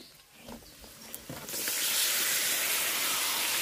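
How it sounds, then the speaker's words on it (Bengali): Marinated duck meat tipped into hot oil with turmeric in a kadai, a few soft knocks and then a sudden loud, sustained sizzling hiss that stays close and fills the rest of the moment. "ম্যারিনেট করা মাংস আমি দিয়ে দিচ্ছি"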